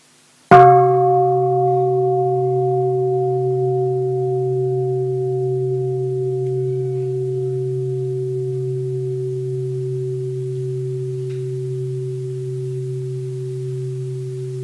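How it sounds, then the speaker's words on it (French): A meditation bell struck once, its clear ringing tone with strong low and mid partials sustaining and slowly fading over a long quiet decay, alone and close. "On va écouter un son de cloche."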